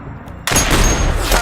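A single loud gunshot bursts out after a near-silent half second in the Metal Gear Solid digital graphic novel, followed by a sustained booming, rumbling tail that fills the rest of the moment.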